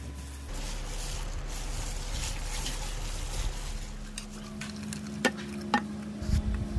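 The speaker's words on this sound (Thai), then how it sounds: "นำแป้งไปผัดด้วยไฟกลางค่อนข้างอ่อน ขั้นตอนนี้ไม่ควรวางมือโดยเด็ดขาด ระวังแป้งไหม้นะครับ" Flour batter for Thai chive dumplings is stirred in a pan over medium-low heat, with a soft steady sizzle under continuous scraping and a few sharp utensil clicks near the end.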